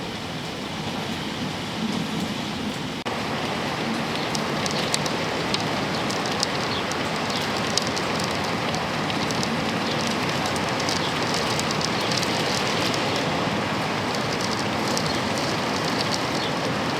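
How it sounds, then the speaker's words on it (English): Heavy rain pours down in a constant, loud hiss that never lets up, with no voices. "And the rain's back, so I'm going back inside."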